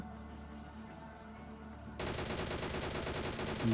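DP machine gun firing in BGMI, a battle royale mobile game: after two seconds of quiet ambience, a loud, rapid, steady stream of automatic shots runs to the end.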